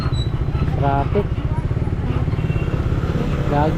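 Busy road traffic in Dasmariñas under a dark, heavy sky, with motorcycle engines idling and revving steadily close by, a continuous low engine rumble and brief passing whines, and people talking over it.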